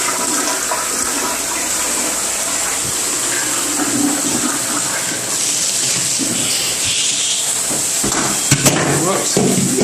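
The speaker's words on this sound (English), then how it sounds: "Toilet flush is good." A toilet flushes in a steady, loud rush of water that gurgles and swirls for several seconds, with a few clunks near the end.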